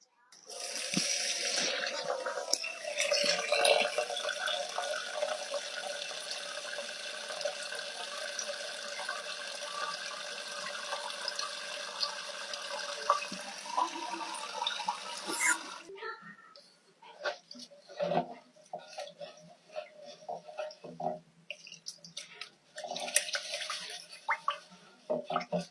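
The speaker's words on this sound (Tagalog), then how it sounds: "Hugasan ng bigas. ASMR hugas bigas." Rice is washed in water at a kitchen sink: a steady stream runs for about fifteen seconds, then gives way to intermittent sloshing and swishing as the grains are rinsed by hand.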